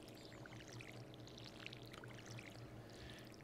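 Crops watered with a watering can in Stardew Valley, a faint continuous pouring, splashing water sound held steady throughout, with no talking.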